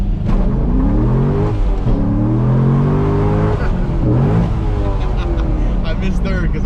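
A Ford EcoBoost car fitted with a loud Turbosmart dual-port blow-off valve revs up and down near the listener, ending in sharp whooshing bursts as the throttle lifts, with voices talking over the engine.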